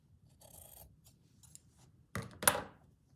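Fabric scissors trim appliqué cloth for a primitive rabbit stitched onto a linen tea towel, with faint rustling early on, then two close, crisp snips near the end.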